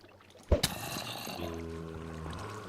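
Flowing water in the Minecraft video game, set near a deep hole by glowstone, runs as a soft, steady wash after a sharp double knock near the start, with a faint held tone under it partway through.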